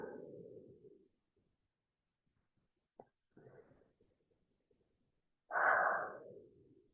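Deep, slow breaths during a slow-flow hatha yoga stretch: a soft exhale at the start, a couple of faint breathy sounds in the middle, and a fuller, louder breath near the end, close and quiet in an otherwise silent room.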